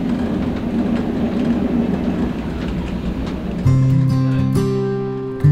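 The Maitree Express passenger train on the Dhaka to Kolkata route runs along the tracks, a steady loud rumble and rattle from onboard, then a sudden shift to a louder droning tone near the end.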